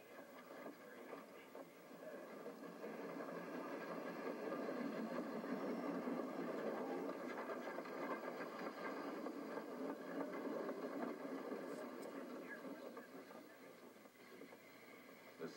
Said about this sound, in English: sounds of steam locomotion and of steel wheels on steel rails are unbroken